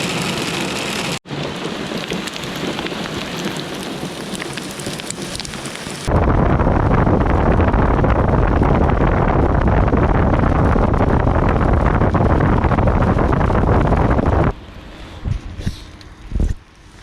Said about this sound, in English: we got a thunderstorm rolling through with some pea-sized hail